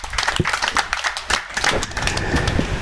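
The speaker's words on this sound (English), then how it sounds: "Round of applause, please, for brother." An audience at a Freedom Summit event claps together in a dense burst of applause, steady and fairly loud throughout without anyone speaking.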